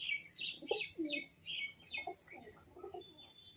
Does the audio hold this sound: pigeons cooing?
yes